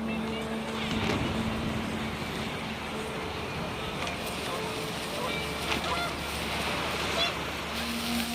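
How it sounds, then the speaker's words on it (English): Panicked geese honk amid gusting wind in the video game What Remains of Edith Finch, a brief flurry of calls over a steady windy, watery ambience with a narrating voice on top. "The wind picked up, and panicked geese appeared and quickly went."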